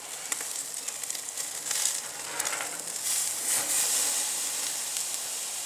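A standing prime rib sizzles and hisses steadily on a grill just after being flipped, a close, crackling fry with faint popping throughout.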